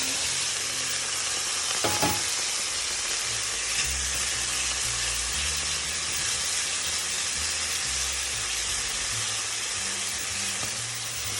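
Tomatoes and shallot fry in a pan for saffron scallop linguine, a loud continuous sizzle with occasional stirring scrapes and clatter, close up and without talk.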